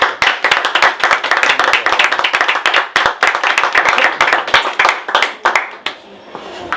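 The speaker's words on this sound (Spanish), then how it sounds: "os pido un fuerte aplauso para el poeta" An audience applauds a poet at a reading with dense, lively clapping from many hands. The clapping holds steady and close, then thins and trails off near the end.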